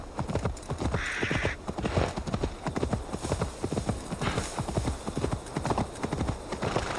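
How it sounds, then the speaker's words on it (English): Horse hooves in Assassin's Creed Valhalla beat out a quick, regular clip-clop gallop, loud and close for the whole stretch. "I'm on a horse."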